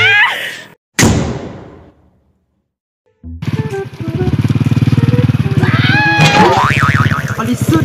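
A motorcycle ridden on a rural road starts up after a brief bang and a stretch of silence, then drones loud and steady close by with a rising engine whine near the end.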